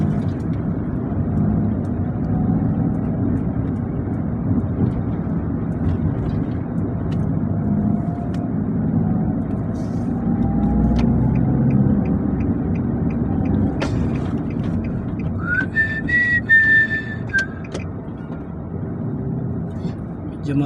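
A car crawls slowly through traffic in Doha, Qatar, heard from inside as a steady low engine and road rumble over about twenty seconds, with a brief high tone late on.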